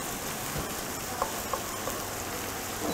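Onions cooking in butter with fresh oregano in a pan on a home stove: a steady, soft frying sizzle with a few faint clicks and stirring taps, no talking.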